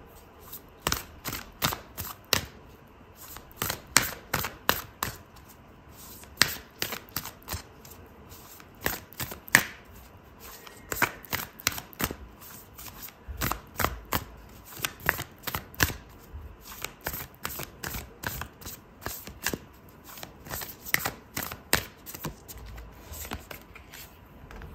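Oracle cards shuffled by hand for a tarot reading, repeated crisp riffling bursts of card edges slapping together in quick clusters, close and fairly quiet, with brief pauses between rounds.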